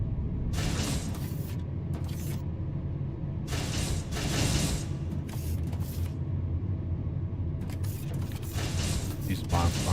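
Vacuum bots working in the factory-building video game Foundry, a dense mechanical whir with creaking and rattling bursts that come and go over a steady loud hum.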